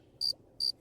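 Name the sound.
crickets chirping sound effect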